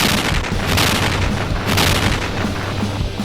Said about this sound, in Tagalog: dito na nga biglang yumanig ang paligid na sinundan ng sunod-sunod na pagsabog